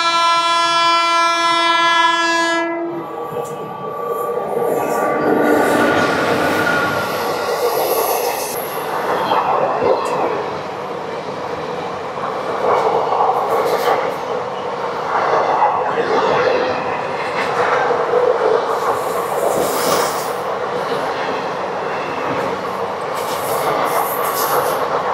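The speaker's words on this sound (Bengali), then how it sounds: "ওদিকতে চলে আসছে ট্রেন নাম্বার 12711 বিজয়ওয়াড়া থেকে Chennai central Pinakini superfast express" Train 12711, the Pinakini Superfast Express from Vijayawada to Chennai Central, gives a loud horn blast and then thunders past close by, its wheels rumbling and squealing for a long stretch.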